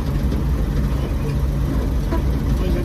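A 1953 Chevy truck rolls along on its first drive in 40 years, giving a steady low engine and road rumble heard from inside the cab.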